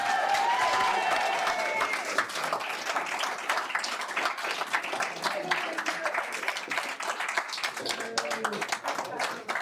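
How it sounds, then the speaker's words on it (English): Audience applause after a unanimous vote at a public meeting, a sustained burst of many hands clapping in a room that slowly thins out, with scattered voices and faint talk underneath. "You heard much the applause."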